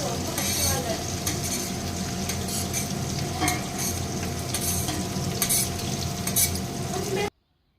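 Chopped onions and green chilies fry in a pot for country chicken biryani, a continuous close sizzle with repeated stirring scrapes and light clinks of a spoon, stopping abruptly at the end.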